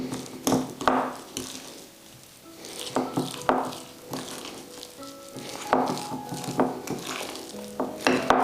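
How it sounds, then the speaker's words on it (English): A garlic powder, ground ginger and cinnamon mixture whisked in a bowl, giving irregular bursts of clinking and scraping strokes, fairly close and moderately quiet, with pauses between. "whisk it."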